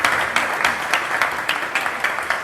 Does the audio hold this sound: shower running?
no